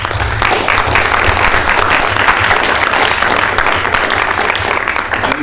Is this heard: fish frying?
no